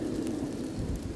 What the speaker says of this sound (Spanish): No podía distinguir bien lo que decían por el ruido de la lluvia.